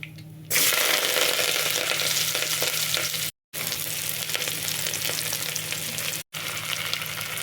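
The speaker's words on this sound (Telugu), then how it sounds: "మనం ఈ ఆనియన్స్ని మనం సిమ్లో పెట్టుకొని వేయించుకోవాలి" Onions fry in oil over a low flame for a Nellore fish dish, a loud, continuous close sizzle that starts abruptly and runs steadily, broken by two brief silent gaps, with no talking.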